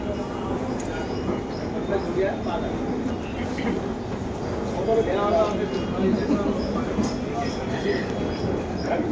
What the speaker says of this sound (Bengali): এবার আমরা প্ল্যাটফর্মে দিতে যাচ্ছি, প্ল্যাটফর্ম নাম্বার 14-তে ট্রেন।